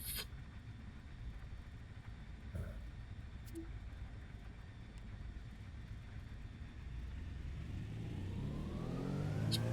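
An aircraft engine at full power in Microsoft Flight Simulator, a steady droning roar whose pitch and loudness climb toward the end as the throttle opens, with no talking.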